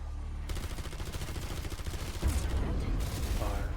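Carbon 57 SMG fire in Black Ops 7 Zombies: rapid automatic bursts rattle loud and close, one long stream followed by shorter bursts, mixed with game effects and a low rumble.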